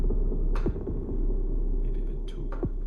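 An SY05 modular synth module plays a deep sub bass tone, a steady low throbbing hum that runs continuously with faint clicks on top and no talking.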